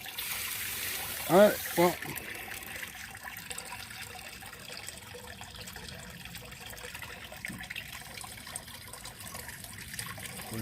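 A small waterfall spout trickles into a mini pond built from a 50-gallon storage tote with a homemade filter box, giving a soft, steady running-water patter after a brief spoken remark at the start.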